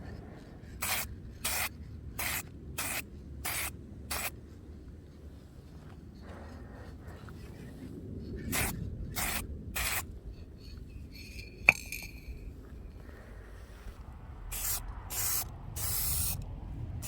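Spray cans hiss in short repeated bursts, about a second each, in clusters separated by quiet pauses, while the engine and parts of a Honda CRM 250 two-stroke motorcycle are painted. Close and clear, with a faint metallic clink midway and no talking.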